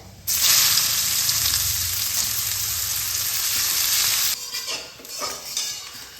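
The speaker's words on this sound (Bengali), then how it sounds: "পেঁয়াজটা অর্ধেক ভাজা হয়ে গেছে।" Chopped onions fry in fish-frying oil with black cumin and a dried chilli, a loud steady sizzle that starts abruptly, holds for several seconds, then breaks into softer intermittent stirring scrapes.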